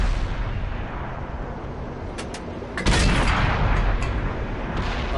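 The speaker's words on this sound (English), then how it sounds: "Artillery hit me." Artillery shells strike a tank in World of Tanks, a couple of sharp cracks followed by a heavy booming impact and a rumbling tail under a constant engine drone.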